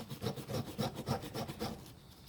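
Scotch-Brite pad scrubs rust off a Honda CB750 motorcycle part in quick back-and-forth strokes, about eight rhythmic rasping rubs, close and fairly quiet with no talking.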